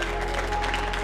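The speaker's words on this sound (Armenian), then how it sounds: "Բարձր ծափարում ենք, բարձր։" An audience claps loudly at a youth camp's final event, a brief, dense, steady burst of many hands with no pause.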